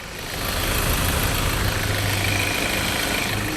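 A 2014 Mazda BT-50 Pro 2.2-litre turbo diesel pickup engine idles steadily with a low, rumbling throb and a faint mechanical clatter, close by and continuous, with no one speaking.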